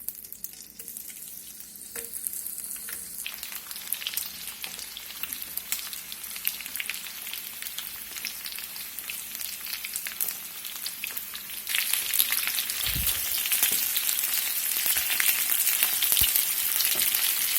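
Potatoes frying in melted butter in a pan give a steady, close sizzle with light crackle and occasional stirring, growing louder and brighter in the second half.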